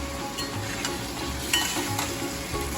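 Boiled potatoes hitting a hot pan and being stirred as they fry with salt, a steady close sizzle broken by scraping stirs, with no voices.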